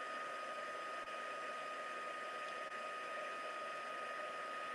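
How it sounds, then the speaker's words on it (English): A craft heat tool blows steadily while heat-setting embossing powder for stamping, giving a constant, even whirring hiss of fan and airflow that runs unbroken, fairly quiet and close, with no talking. "Where is my heat tool?"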